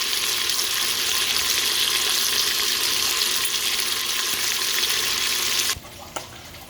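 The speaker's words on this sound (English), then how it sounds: "sizzling meat." Bacon sizzles and crackles in a frying pan for pasta, a dense, loud, steady hiss close by that suddenly cuts off near the end and is followed by a few clinks, with no talking.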